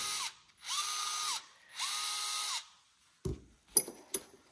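A Japanese-made Vessel electric screwdriver whirs in two short bursts, spinning up and winding down, followed by a few clicks and handling knocks.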